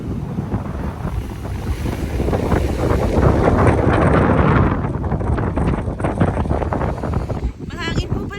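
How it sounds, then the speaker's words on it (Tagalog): Strong wind buffets the microphone on a ferry crossing False Creek in Vancouver, a steady roaring rush that swells in the middle and runs throughout, with faint voices and water beneath it. "Mahangin po pala sa Vancouver."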